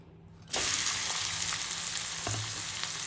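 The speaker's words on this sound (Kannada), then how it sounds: "ಇವಾಗ ಇದಕ್ಕೆ ಆನಿಯನ್ ಹಾಕ್ಕೊಳ್ಳೋಣ." Onions hit a hot pan of prawns being dry-roasted, and a sudden loud sizzle bursts in after a quiet moment, then carries on as a sustained crackling hiss with light stirring scrapes.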